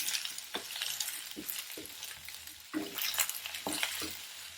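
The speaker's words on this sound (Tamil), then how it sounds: "வெண்டைக்காய் 10 கழுவி கட் பண்ணி வச்சுருக்கேன். இதை நல்லா ஃப்ரை பண்ணிடணும்." Cut okra sizzles and crackles in a pan with curry leaves and garlic, stirred at intervals so scraping swells break the steady quiet frying hiss.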